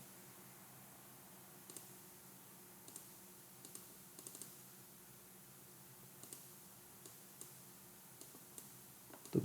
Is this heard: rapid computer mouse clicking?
yes